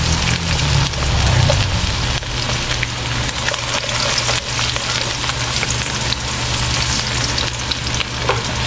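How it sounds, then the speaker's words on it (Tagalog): Garlic and onion sauté in a pan, giving a steady, loud, close sizzle with crackling that runs unbroken and alone, with no one talking. "Ayan, mag-gisa tayo ng bawang sibuyas."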